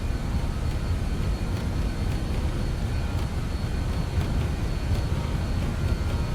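Steady, loud broadband engine roar and rumble of a JustFlight BAe 146 airliner accelerating down the runway on its takeoff roll in Microsoft Flight Simulator, continuous and even throughout with no voices.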